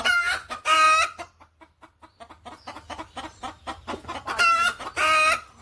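Chickens in the Konkan region of India cluck in quick, overlapping bursts, with a louder squawking flurry at the start and another near the end, and softer clucks in between.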